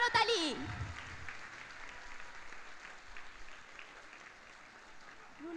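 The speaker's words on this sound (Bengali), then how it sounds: "তার জন্য জোর করতালি।" Audience applause for a singer arriving on stage at a children's academy national day event, a brief announcer's voice at the start, then sustained moderate clapping from a crowd that slowly thins toward the end.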